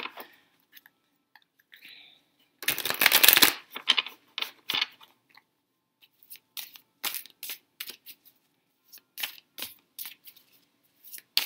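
Tarot cards are shuffled and riffled in quick bursts, one loud flurry followed by a series of softer, scattered flicks and slaps close by.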